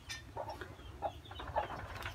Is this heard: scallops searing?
no